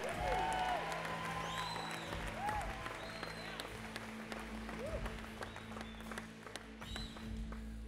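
A church congregation at a Wednesday service claps and cheers, a steady wash of applause with scattered shouts running the whole eight seconds, fairly distant and roomy, with faint voices and a low organ-like hum underneath.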